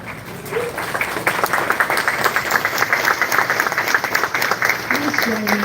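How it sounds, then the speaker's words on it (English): Audience applause welcoming a speaker at a live community event, a crowd of clapping hands at moderate loudness with a brief voice in the background, steady for several seconds. "Please join me in a welcome hand of applause for Dr. Suji Park."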